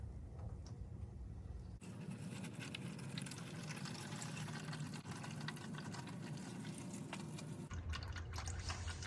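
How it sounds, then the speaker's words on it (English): Engine oil draining from the drain plug of a 2022 Toyota RAV4 XLE Hybrid, a steady continuous liquid pour and drip running throughout under the car, fairly constant with no talk. "We're going to take the plug off and just let it drain."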